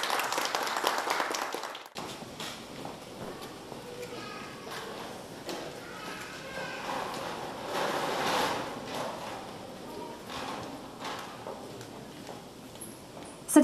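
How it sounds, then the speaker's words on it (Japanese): Scattered applause at a Paralympic torch flame lighting ceremony, fairly quiet and uneven, starting after a brief pause and continuing as light clapping with some background murmur. "どうぞ今一度盛大な拍手をお願いいたします。"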